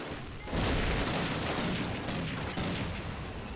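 Sustained machine gun and rifle fire in Call of Duty, a dense continuous rattle of shots with booming undertones that holds steady for several seconds.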